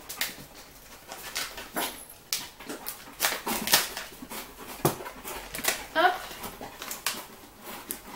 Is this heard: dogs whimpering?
yes